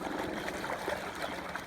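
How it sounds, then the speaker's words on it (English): Irrigation water pours steadily down an open channel and gravity-fed tube outdoors, a continuous rushing, gurgling flow heard up close with no pauses. "someone right now must be irrigating because this thing is open. The water is pouring down over there"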